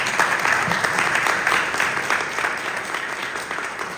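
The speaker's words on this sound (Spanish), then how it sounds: "brindémonos otro fuerte aplauso" An audience at an academic micro-credentials event applauds with sustained, dense clapping that stays loud and steady for several seconds before easing slightly at the end.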